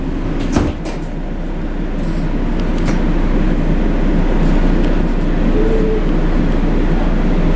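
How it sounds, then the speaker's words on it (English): A train arrives at a station with steady, building rumble and rail noise, a few sharp clunks near the start and a faint brief tone later, with no clear talk over it. "Attention passengers, the eastbound train is arriving."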